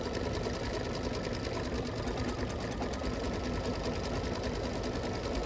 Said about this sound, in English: And now it's doing a satin stitch.